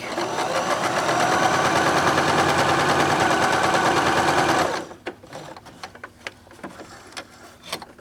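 A Bernette b33 sewing machine stitches piping into fabric in a fast, loud, even mechanical whir for about five seconds, then stops, leaving scattered close handling clicks.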